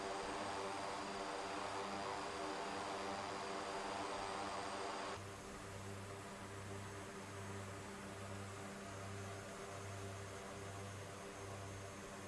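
Propeller drone of a de Havilland Twin Otter in a flight simulator, steady and continuous at moderate level with a broadband hiss that drops away partway, leaving a pulsing low engine hum alone.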